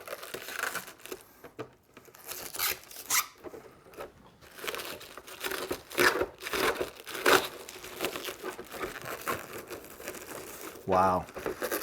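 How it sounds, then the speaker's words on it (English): Protective plastic film is peeled from a Kyosho El Camino model car during an unboxing, giving soft crinkles and short tearing rasps mixed with a person talking. "I have to peel off this plastic first"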